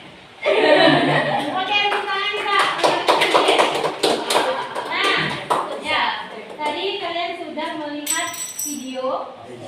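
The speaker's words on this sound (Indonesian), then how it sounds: "Oke, tepuk tangan kita." A classroom group claps hands together in sharp, close bursts mixed with lively children's voices and laughter, the claps coming in irregular clusters rather than a steady beat.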